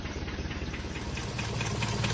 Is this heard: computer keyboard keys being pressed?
no